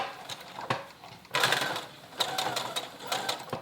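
A sewing machine runs a basting stitch through jeans fabric, whirring in several short bursts of rapid needle clatter with brief pauses between them, close and clear.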